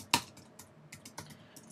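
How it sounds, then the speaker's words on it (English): Typing on a computer keyboard while setting up a blog post, heard as one sharp, loud key strike followed by a scattered run of softer, uneven taps, close and quiet with no talk. "This is where you do all your typing."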